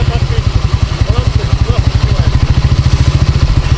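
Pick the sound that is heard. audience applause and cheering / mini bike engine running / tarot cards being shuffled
mini bike engine running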